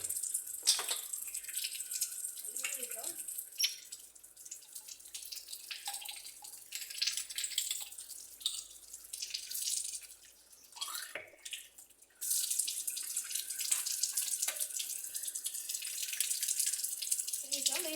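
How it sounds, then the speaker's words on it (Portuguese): Water is poured and splashes into a drinking trough during handling before a tournament, a steady hissing flow broken by drips and pauses, with a louder continuous stretch near the end. "Vou estar colocando água no bebedouro."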